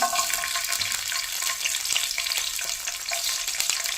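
Whole garlic cloves frying in hot oil crackle and sizzle steadily, a close, bright, continuous spatter with small pops and no talk.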